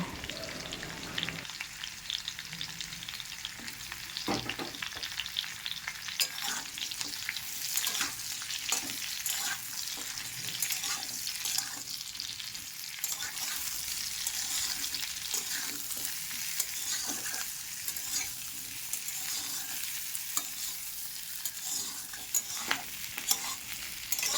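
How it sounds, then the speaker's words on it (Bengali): Teasel gourd and potato fry in a pan with a steady, close sizzle, broken by frequent scraping stirs throughout; no voices. "এবার কাঁকরোলগুলো দিয়ে কাঁকরোল আর আলু ভেজে নেব"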